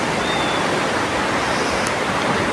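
Rough, churning sea on the Konkan coast with a strong current, a dense continuous roar of breaking water filling the whole stretch at steady loudness, with no voices.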